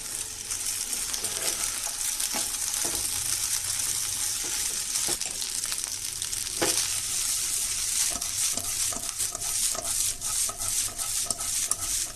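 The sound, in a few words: stirring chili powder into frying egg fried rice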